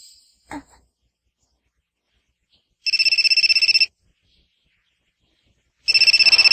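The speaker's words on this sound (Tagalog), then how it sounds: "Galing sa cellphone ng pinuno." A cellphone ringtone sounds in a Tagalog-dubbed Hunter x Hunter anime episode, two loud trilling bursts about a second long and three seconds apart, following a faint click and otherwise silence.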